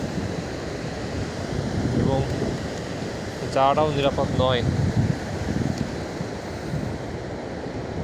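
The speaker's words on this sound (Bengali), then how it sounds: "এই ঢেউগুলো আঁচড়ে আঁচড়ে যখন উপরে পড়তেছে" Ocean surf at Cox's Bazar beach rolls in as a steady, loud roar with wind noise on the microphone, while someone talks over it in the middle of the stretch.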